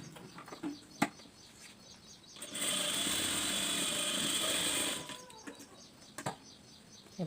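A sewing machine stitches tucks into a blouse in one steady whirring run of about two seconds, with scattered clicks and taps before and after, close by and with no talk.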